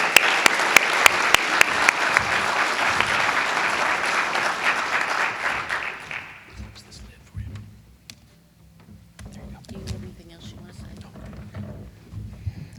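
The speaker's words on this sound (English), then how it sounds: "really wanted to stop and give them a round of applause" Audience applause fills the room at a road safety awards event, loud and sustained for about six seconds before thinning to a few scattered claps, then giving way to quieter room noise and a voice.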